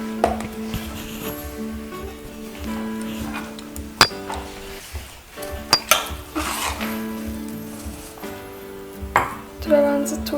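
Metal spoon clinks and scrapes against a cooking pot as fried rice is scooped out, with irregular sharp taps over a steady low hum.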